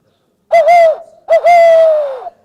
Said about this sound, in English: I'm glad you all like that owl so much.